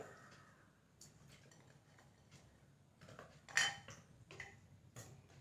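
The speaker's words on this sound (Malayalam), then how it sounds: "നമുക്ക് ഈ വെള്ളത്തിലേക്ക് ഈ ചിരട്ടയൊക്കെ അങ്ങോട്ട് ഇട്ട് കൊടുക്കാം" Coconut shells dropped into water in a clay pot, making a few separate hard clinks and clatters, the loudest near the middle, with quiet gaps between them.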